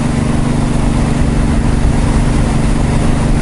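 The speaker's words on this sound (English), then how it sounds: "At 100k an hour in 5th gear, it sits at 2500 RPM." Steady engine drone from a five-speed car cruising at highway speed around 2500 RPM, a continuous low hum that stays loud and even throughout with no talking.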